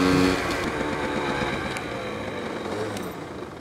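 A clutchless downshift with a quick throttle blip sends the engine revving up, then it settles into a steady, loud running drone that slowly fades a little toward the end.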